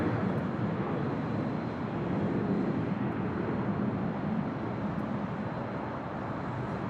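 Delta airliner taking off from runway 24 left at LAX, a steady, distant broadband jet roar that holds evenly throughout, fairly faint and without voices.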